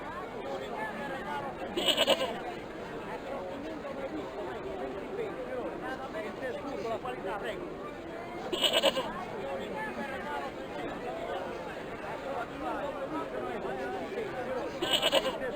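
Goats bleat in a Broken Sword II adventure game scene, three short bleats spaced several seconds apart, rising over a busy backdrop of crowd murmur and game ambience.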